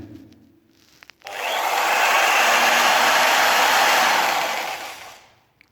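A Sturdy scroll saw for cutting laminate parquet runs at its first speed setting. It starts abruptly into a loud, steady whirring buzz that holds for about four seconds, then fades out.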